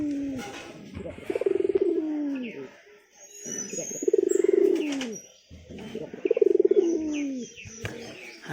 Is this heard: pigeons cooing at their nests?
yes